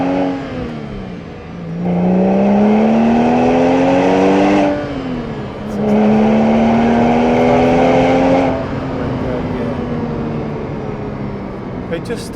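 A Porsche 911 997.1 Carrera 2 pulls hard through two rising gears, the flat-six engine note climbing loudly in each, with a brief dip at the shift, then settling into a steady cruising drone.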